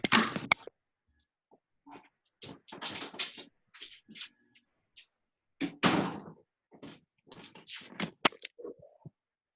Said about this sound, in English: I gotta let Allie out the door here.